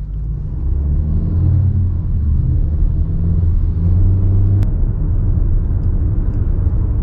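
A 2022 Volkswagen Taos S accelerating gently to merge onto a freeway, heard from inside the cabin as a steady low engine and road rumble that holds for several seconds, with no talk.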